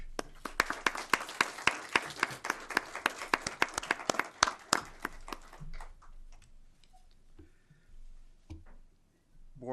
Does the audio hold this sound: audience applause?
yes